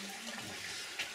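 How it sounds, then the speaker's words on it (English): Water flowing out of a flooded old mine tunnel toward its entrance, a faint steady rushing wash heard close and continuous for a brief moment. "you can see the water flowing out right there to the entrance."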